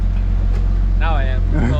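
A Nissan 240 idles right after starting, a loud close-up rumble with a pulsing low beat, and a person speaks over it near the end.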